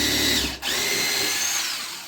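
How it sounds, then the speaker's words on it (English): Power drill boring into 3/4 inch birch plywood to remove an inner glued layer, a loud, steady high whine that dips briefly once before running on and slowly easing off. "I'm trying to drill out one of the layers in between."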